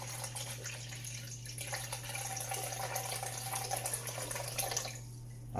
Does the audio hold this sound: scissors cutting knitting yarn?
no